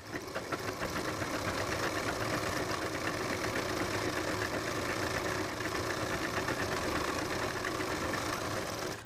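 A sewing machine stitches trousers with a steady, continuous rapid mechanical chatter, close and even in loudness throughout, with no talking.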